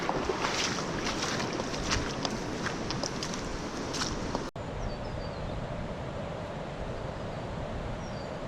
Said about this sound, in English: And I believe the creek is going to be flowing very,